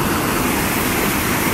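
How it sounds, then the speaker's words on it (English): The waterfall at Aliso Creek roars as a dense, steady wash of rushing water, loud and close, with no voices over it. "Check the waterfall."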